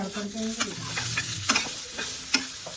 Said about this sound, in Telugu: కొబ్బరి అయితే కొంచెం పచ్చి కొబ్బరి వేయించుకోవాలా